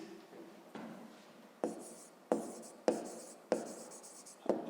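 Pen strokes scratching across paper while a fifth-grade math exercise is worked out, a series of short rubbing bursts with sharp onsets, close and quiet, with no voices.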